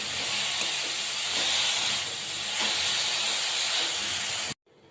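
Grated radish and radish greens sautéing in a hot pan, a loud, steady hissing sizzle that cuts off abruptly near the end.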